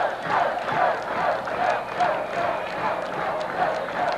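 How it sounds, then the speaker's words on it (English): A large crowd murmurs and cheers in the stands at a Friday night high school football game between the Purple Riders and the Crusaders in 1991, a steady roar with rhythmic swells of yelling across the clip. "Great crowd on hand"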